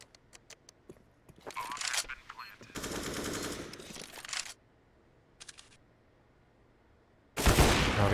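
Gunfire in a Counter-Strike match on the Vertigo map: a quick string of single shots, then dense bursts of automatic fire. Later comes a short burst, then a loud close volley at the end.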